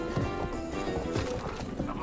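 A horse gallops and neighs in a video game during a police chase, quick hoofbeats and a whinny running under someone talking.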